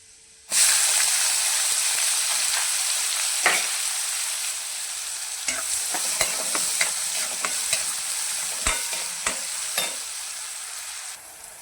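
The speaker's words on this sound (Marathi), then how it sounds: "त्यानंतर थोडीशी जिरा मोहरी आणि आपण बारीक चिरलेला कांदा" Cumin, mustard seeds and finely chopped onion fry in hot oil for a tomato chutney, a steady close sizzle that kicks in suddenly, with scattered sharp pops and a few spoon scrapes against the pan.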